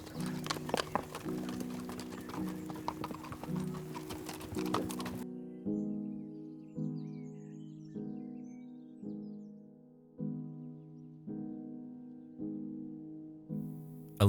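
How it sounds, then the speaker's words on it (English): An Icelandic horse's hooves clip-clop through lupin fields on a leisurely ride, brisk hoofbeats at first, then a slower, faint, regular beat of steps with little else around. "A leisurely ride through the lupin fields on the back of an Icelandic horse"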